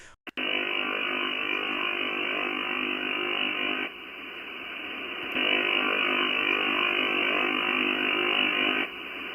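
Steady buzzing, rapid pulsed tone from over-the-horizon radar on shortwave radio with static, a continuous mechanical rattle that shifts level a couple of times.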